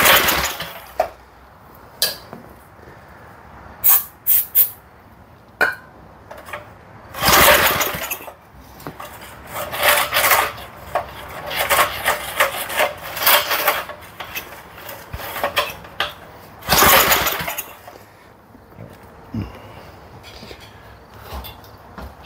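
A stubborn 1970s Massey Ferguson 253 rototiller engine with a gunked-up carburetor is cranked repeatedly, giving a series of uneven bursts and brief sputters between pauses, close and moderately loud, with some metallic clinks.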